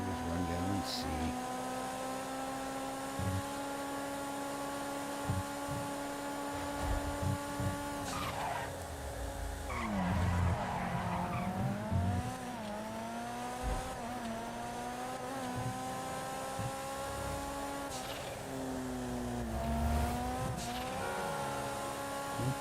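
A car in a racing video game drones steadily with its engine revving, shifting pitch as it accelerates and slows, while tire skids and squeals cut in now and then.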